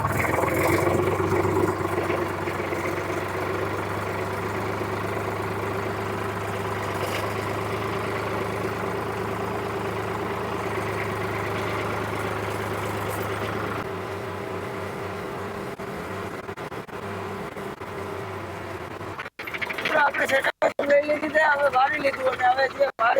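A tractor engine idles with a steady low drone for most of the stretch, then the sound turns rougher and more broken with clattering toward the end.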